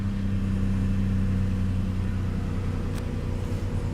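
A 1998 Lexus ES300 with 137,000 miles idles steadily right after start-up, a smooth, even low hum from close by with no one speaking.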